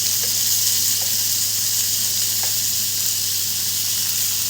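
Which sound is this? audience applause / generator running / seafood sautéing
seafood sautéing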